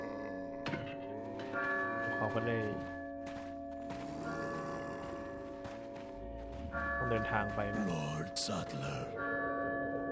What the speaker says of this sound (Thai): เหมือนได้เสียละระฆังจากในโบสถ์นะฮะ